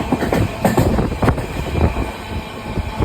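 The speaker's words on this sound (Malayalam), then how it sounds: "അങ്ങനെ രാവിലെ 8:15 ഞാൻ ട്രെയിൻ കയറി." A passenger train moving on rails, with a steady loud rumble broken by rhythmic clickety-clack wheel beats and faint metallic squeal, heard close as if from on board.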